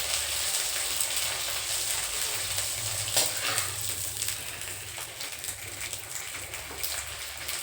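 Khichdi papad fry in hot oil in a kadhai, giving a steady, dense crackling sizzle that carries on without a break and with no voices.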